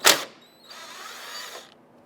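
Wrench work loosening 10mm nuts on a 2002-2008 Dodge Ram 1500 mirror mount, heard as a sharp click followed by about a second of steady ratcheting creak, close and fairly quiet.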